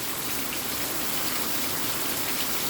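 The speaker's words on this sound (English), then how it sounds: "Heavy rain falling now." Heavy rain pours during a thunderstorm in St. Catherine, trailing behind a hurricane, as a dense, steady hiss of downpour. It stays close and unbroken for the whole stretch, with no voices.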